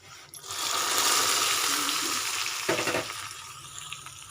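Hot oil tempering with curry leaves and dried chillies hits tomato rasam, giving a loud, sustained hissing sizzle that slowly settles with some bubbling and stirring.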